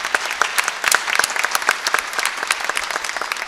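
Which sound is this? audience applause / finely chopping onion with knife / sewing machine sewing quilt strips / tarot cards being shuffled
audience applause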